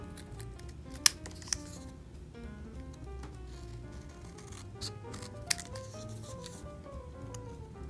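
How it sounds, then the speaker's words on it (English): Scissors snip paper repeatedly in a soft, quick rhythm over faint background music, with a few sharper clicks standing out. "And then use your scissors"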